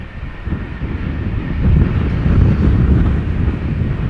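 A Norwegian Boeing 737-800 in a special UNICEF livery departs Schiphol Airport bound for Stockholm, a broad low jet roar building steadily and holding loud, with wind buffeting the microphone.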